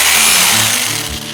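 A power tool grinds steadily through solid frozen baby back ribs, a loud, continuous buzzing rasp with slight shifts in load as the blade works through the meat and bone.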